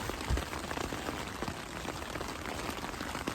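Heavy rain drums steadily on a tent at a wet backpacking campsite, a dense even hiss with no pauses and no voices.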